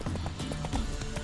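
Horse hooves clip-clop at a steady trotting rhythm in The Witcher 3 video game, a close, moderately loud run of even hoofbeats with no talk over them.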